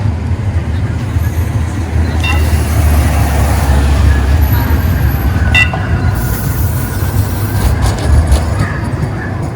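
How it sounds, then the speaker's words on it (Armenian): A Bilbao metro train passes through a city street lined with apartment blocks, a steady low rumble of rolling wheels and motors holding throughout with a few brief squeals, while people talk quietly nearby. "Ստեղով է մետրոն անցնում"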